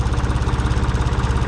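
A 484 tractor engine runs at high idle, loud and close, with a steady, rapid throbbing pulse and no voices over it.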